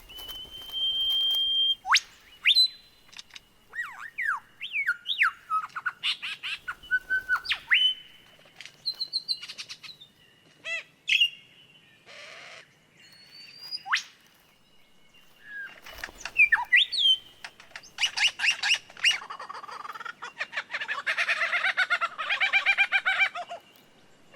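A male lyrebird in mating season sings a medley of his own calls and mimicked sounds: clear whistles, sweeping chirps and rapid rattling bursts, loud and close, alone against a quiet background with brief pauses between phrases.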